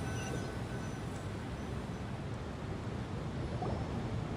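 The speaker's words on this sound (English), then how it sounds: "Sounds like there's a waterfall or something nearby." A steady, continuous roar of rushing water from a waterfall in the video game Genshin Impact, close by, with no pauses and no voices.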